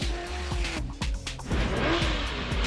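A race car's rear axle tramps under braking into a corner, giving a rapid, rhythmic chatter and hop from the rear end over the close, loud engine and tyre noise.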